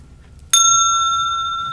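A small bowl is struck once, giving a bright, loud, close ring that holds as a steady, slowly fading bell tone. No voices are heard.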